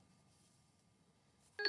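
A phone gives a short electronic beep burst near the end, loud after a nearly silent classroom stretch with no talk.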